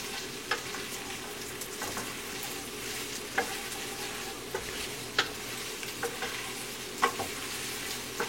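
Vegetable polao sizzling in a pot, a steady frying hiss with a string of sharp, evenly spaced spoon taps and scrapes against the pot, close and clear with no talking.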